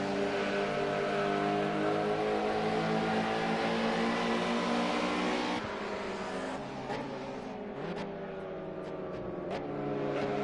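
Historic touring cars, BMW, Mercedes and Ford, racing in a video game, with layered sustained engine drones that shift pitch as they change gear, and a brief sharp transient midway.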